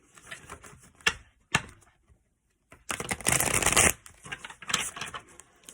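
Stiff Tarot of Oppositions cards being shuffled: a few short riffling bursts and card taps, then a louder sustained riffle in the middle, close and clear with no talking.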